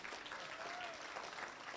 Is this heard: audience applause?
yes